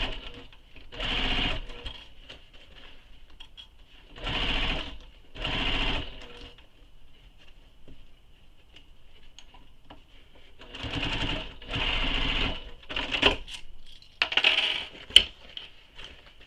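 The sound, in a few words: sewing machine stitching quiver sling panel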